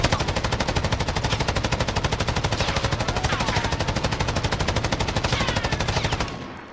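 An M249 SAW light machine gun in Call of Duty Modern Warfare fires one long, loud, unbroken automatic burst of rapid evenly spaced shots for about six seconds, then stops abruptly.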